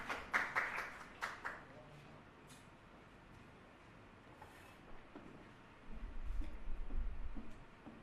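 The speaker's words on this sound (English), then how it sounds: "Give her a nice big round of applause" Audience applause at a human rights forum: a few sharp claps near the start that thin out into a low background, then a low rumble of handling noise toward the end, fairly faint overall.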